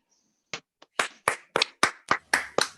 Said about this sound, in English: Please let's unmute your mics and give a round of applause.